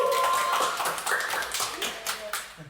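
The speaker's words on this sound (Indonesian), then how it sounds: "Tepuk tangan dong." A school podcast audience claps for students who placed third in a vocal group competition: scattered, uneven hand claps mixed with taps, heard under and alongside talking voices.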